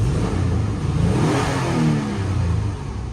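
The 4.0-litre engine of a Toyota Prado 120 running on petrol, under repair for lost pulling power, revving up and settling back down with a loud, close, steady mechanical drone.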